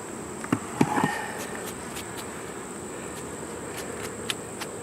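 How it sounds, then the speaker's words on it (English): Honeybees hum in a constant close drone around an opened hive, broken by a few sharp clicks and taps from handling the frames. Nobody speaks. "Them bees will come right up there and cover that brood up."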